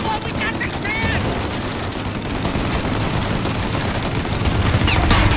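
Gunfire in the Mafia: Definitive Edition game, a dense continuous barrage of shots and booms under voices, loud and rising slightly toward the end.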